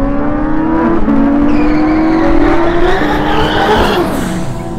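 A race car on a track accelerating at full throttle past grey barriers, a loud, close engine roar rising steadily in pitch for several seconds, with tyre squeal mixed in; no voices.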